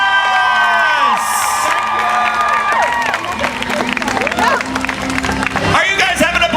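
A large crowd at a Harry Potter celebration event cheering, whooping and applauding loudly, with children's high shouts rising over sustained clapping and an amplified voice speaking over the noise.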